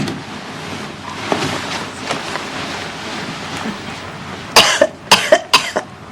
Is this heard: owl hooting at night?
no